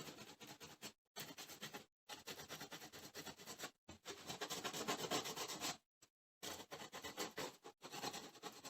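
Wooden sign hand-sanded with steady, close rasping strokes running in long continuous stretches, broken by several short silent gaps.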